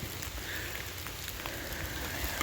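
Steady rain falling outdoors in a downpour, a dense, even hiss of drops on surfaces that continues unbroken throughout.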